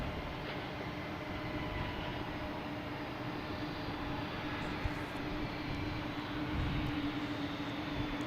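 Steady, even jet roar from an aircraft at Boston Logan Airport, heard from an outdoor spotting spot and holding at a constant level for several seconds with no talking.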